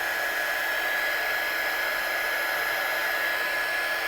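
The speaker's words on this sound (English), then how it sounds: "let your heat gun tool warm up a little bit" A heat gun used for heat-setting embossing powder on a stamped watercolour card gives off a steady, even blowing hiss, constant and fairly loud throughout, with no voices.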